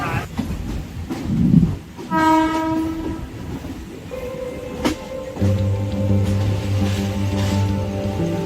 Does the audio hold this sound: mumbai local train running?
yes